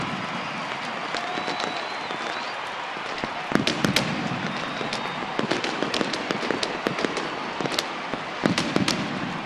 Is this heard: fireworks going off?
yes